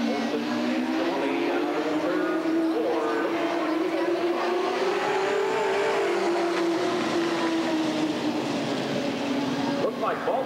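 Super stock race cars on an oval track at Redwood Acres Raceway during a trophy dash, engines droning steadily and loudly throughout with rising and falling pitch as the pack circles, a commentator talking over the roar.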